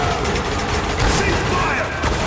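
Gunfire in the video game Spec Ops: The Line, a loud, dense barrage of overlapping shots and booms with mechanical clatter, while voices shout over the shooting.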